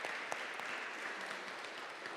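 Steady, faint round of applause from an audience at a health conference on non-communicable diseases, with even clapping from the distance throughout.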